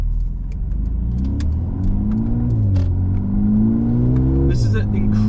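A 2020 Mercedes-Benz A35 AMG accelerating hard, the engine note climbing steadily in pitch through the gears with a brief dip at a shift, loud and close, with a few faint clicks over it.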